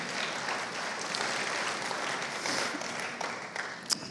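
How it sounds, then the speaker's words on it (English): A church congregation applauding together in a steady, dense wash of clapping that stays at an even level throughout, with no talk over it. "give the Lord your best clap offering."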